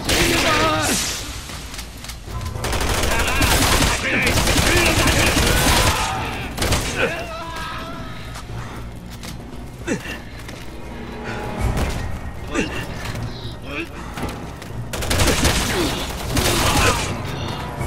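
Resident Evil 6 gunfire in a dense, loud firefight: rapid bursts and shots overlapping with whooshes and thuds, with brief voice lines mixed in.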